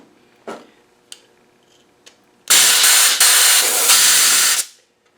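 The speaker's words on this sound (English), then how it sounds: "we're going to blow through this hole here, make sure the oil way is clear" Compressed air hisses hard through the oil hole of a 200Tdi rocker shaft in a loud, close two-second blast, preceded by a few faint clicks and taps.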